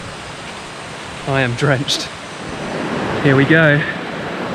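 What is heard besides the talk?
river flowing in Sumatran jungle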